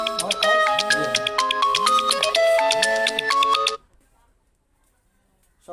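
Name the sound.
phone alarm ringing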